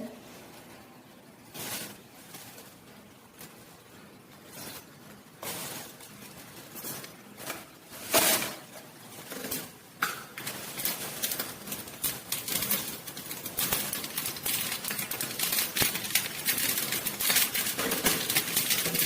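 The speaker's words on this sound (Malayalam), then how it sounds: "ആ വെളിച്ചെണ്ണ ഒന്ന് ചൂടായി കഴിഞ്ഞാൽ പിന്നെ കടുക് ഇടും" Mustard seeds splutter in hot coconut oil, giving irregular sharp pops and crackles that get denser and louder toward the end. No one talks.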